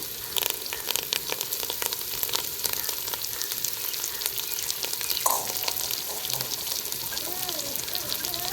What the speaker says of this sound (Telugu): పుదీనా వేసుకుందాం కలుపుదామండి